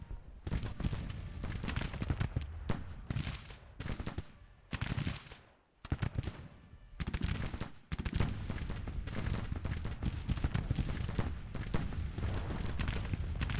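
Artillery and gunfire from a Civil War battle in the game Grand Tactician: The Civil War, with dense rolling volleys and booms in sustained bursts, broken by a couple of brief lulls.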